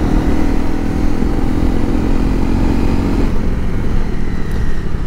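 A Honda CRF300 Rally motorcycle with its stock exhaust accelerates at full throttle on the road, a loud, steady engine roar with rushing wind noise, close and continuous throughout.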